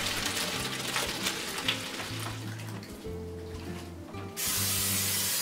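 Cooking spray hisses onto a pan in a few short bursts and then a longer, louder blast at the end, set over a low hum with no talk.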